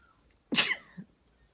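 A single sharp human sneeze, loud and close in an otherwise quiet room, with a small breathy tail just after.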